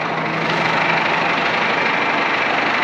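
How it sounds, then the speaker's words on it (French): A Valtra G125 tractor with a 125-horsepower engine idles nearby, a steady low diesel rumble with an even, unchanging drone and no talking. "Le nouveau tracteur est là. Donc Valtra G125."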